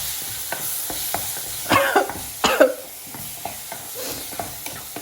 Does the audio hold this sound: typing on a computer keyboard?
no